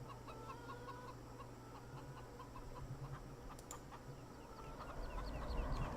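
Chickens in the farming game Farming Simulator 17 cluck in a steady repeated pattern over a low farmyard background hum, moderately quiet with no talking.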